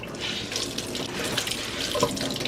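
A kitchen tap runs steadily, water splashing onto a pair of jeans held underneath to wet them, close and continuous for a couple of seconds.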